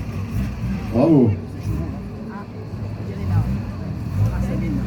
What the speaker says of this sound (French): C'est sympa le bruit du 6 cylindres aussi, hein. Ça siffle bien.